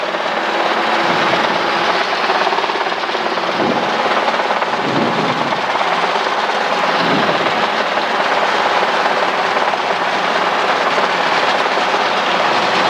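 A Robinson R22 helicopter in low-speed flight, its engine and rotor filling the cabin with a loud, constant broadband roar, with faint low rotor pulsing beneath.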